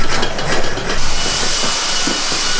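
A carbon fibre bike part being cut, giving a loud, continuous harsh whirring grind much like a drill, pulsing slightly at first then holding steady, close to the microphone.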